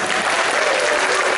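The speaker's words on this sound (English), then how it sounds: "A big cheer." A live audience cheers and applauds together in a dense, steady burst of clapping and voices that lasts the whole moment without a break.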